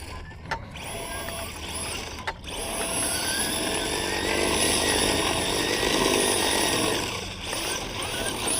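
An RC car runs with its rear rubbing and the drive slipping badly, a high buzzing electric motor whine that rises into a sustained loud drone after a few brief knocks, close by outdoors.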